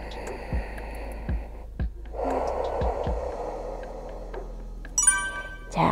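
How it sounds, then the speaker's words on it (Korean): Deep breaths in and out during a stretching exercise come in slow, soft cycles close to the microphone, with a faint chime near the end. "숨 마시고요. 내쉬고 한 번만 더 숨 마시고요."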